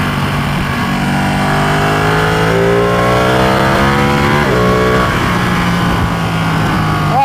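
A Ducati Panigale 1199R motorcycle with carbon fiber wheels pulls away close by, its engine revving loud and continuous, rising in pitch through several gear changes.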